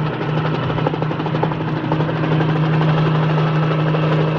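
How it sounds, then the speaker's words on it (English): A helicopter drones steadily close by, its low rotor thump and engine whine loud and continuous as it comes in to land on a level lot. "It's a helicopter."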